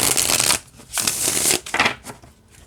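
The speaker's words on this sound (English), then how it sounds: "All right, shuffle's just great." Three separate bursts of oracle cards being shuffled overhand by hand, crisp and close, with short pauses between them.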